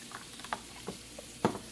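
Tomato paste being stirred into eggs in a pan over low to medium heat: a few soft scrapes and taps of a utensil over a faint sizzle, close and quiet, no voices.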